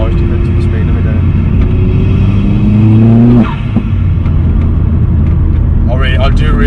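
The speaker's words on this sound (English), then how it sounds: "I really hope you can hear that turbo noise." A Vauxhall Astra VXR with a stage 3 hybrid turbo engine revs loudly and close by, its tone climbing steadily before dropping off into a lower, rumbling drone, then a short whooshing burst near the end.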